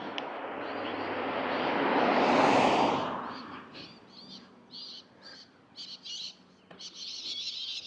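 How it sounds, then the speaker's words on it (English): Short bursts of high-pitched parrot calls sound from birds flying over after a loud rushing swell of wind or traffic fades, the calls repeating in quick clusters, in Innisfail, Australia. "Like parrots or whatever they are going over."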